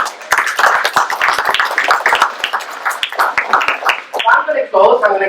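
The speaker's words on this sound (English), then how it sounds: "can we give one big applause for the organizers of this?" An audience claps throughout a conference session for the organizers of an event where most speakers are kids, a dense, loud spatter of hands that ends in a brief voice.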